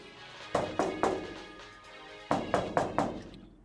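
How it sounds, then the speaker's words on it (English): Repeated banging on thin metal container walls in a visual novel game, two clusters of three to four hollow thuds each separated by a pause, fairly loud with a short ringing decay and no voices. "The bang just didn't stop, and since the metal walls were pretty thin, the sound echoed loudly all throughout the container"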